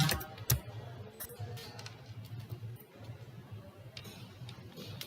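Someone types on a computer keyboard, a quick run of soft, close key clicks in uneven bursts with short pauses and no talking.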